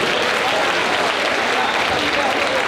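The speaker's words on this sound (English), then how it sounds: "Let's clap it up for her." Steady, loud applause from an audience at a convocation ceremony, honouring a woman for forty years of service, sustained and even throughout with a faint crowd murmur underneath.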